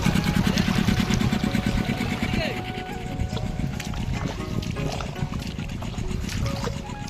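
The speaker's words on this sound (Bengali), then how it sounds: "বোটটা যাচ্ছে, খাওয়ার বোট" A boat engine running on a Sundarbans waterway during crab fishing, a steady low motor throb that is loudest at first and then eases off as the boat passes, with some voices talking over it.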